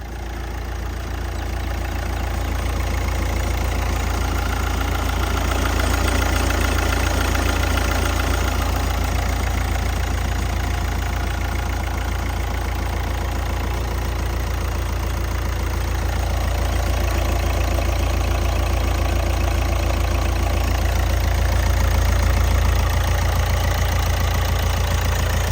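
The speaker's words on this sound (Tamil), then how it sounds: "இந்த வண்டியோட இன்ஜினை ஸ்டார்ட் பண்ணி வண்டியோட இன்ஜினோட நாய்ஸை நான் உங்களுக்கு கேமராவை இன்சர்ட் பண்ணி" A 2011 Hyundai i20 CRDi diesel engine idles steadily with a continuous, even low rumble and mechanical clatter, heard close and alone without any talk.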